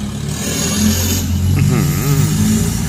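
An Isuzu truck engine revs loudly and steadily, with a high whistling whine rising over the deep rumble, close by, in a durian orchard.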